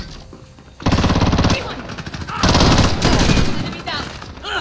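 Rapid automatic gunfire in Call of Duty: Modern Warfare, two loud close bursts of dense, crackling shots separated by a quieter gap, with no voices.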